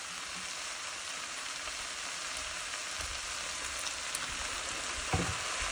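Cabbage and sausage cooking down in one pot after a splash of white distilled vinegar, giving a steady dense sizzle and crackle throughout, with a few faint stirring clinks near the end and no talking.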